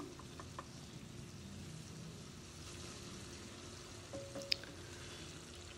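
Tomatoes and onions frying in a pan for a Kashmiri paneer and green beans dish, a faint, steady sizzle with soft scraping and a few light clicks as a spoon crushes the pieces.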